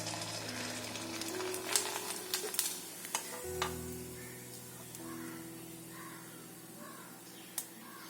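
Sun-dried rice crisps (vathal) fry in hot oil with a steady, close sizzle and bubbling. A few sharp clinks and stirring knocks come early, and a faint bird caw sounds in the background.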